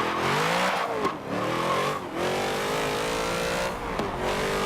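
A 1994 Nissan Silvia drifting in Forza Motorsport 7, its engine revving hard and loud with rising and falling pitch as the throttle is worked, tires squealing through the slide and brief dips at each shift.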